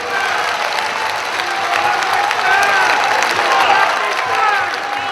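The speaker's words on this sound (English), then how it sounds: "the crowd cheering and at certain times standing up and applauding" Crowd at a rally cheering and applauding a speech, a steady dense roar of voices and clapping that stays loud throughout.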